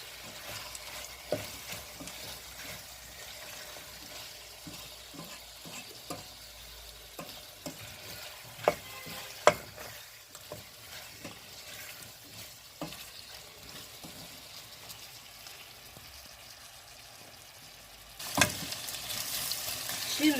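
Mushrooms and diced carrot sauté in a pan with steady soft sizzling, while a spoon stirs and scrapes at irregular intervals, producing scattered clacks and one louder burst near the end.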